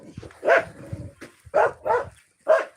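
A dog barks close by in a series of about four sharp barks, with soft whimpering and whining filling the gaps between them.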